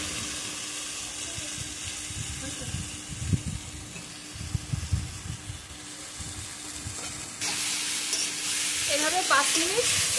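Prawns go into a pan of ridge gourd with poppy seed paste and start frying. Low stirring and scraping thumps come first, then a louder, steady sizzle rises and holds to the end.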